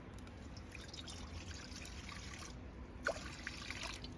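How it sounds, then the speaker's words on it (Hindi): Water poured into a wok for a village-style date recipe trickles and splashes steadily, faint and close, with a few small clinks. "ये रहा मैंने पानी दे दिया"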